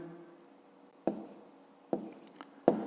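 A pen writes on paper while working a fifth-grade math exercise, with three quick, close scratchy strokes separated by short quiet gaps and no speech.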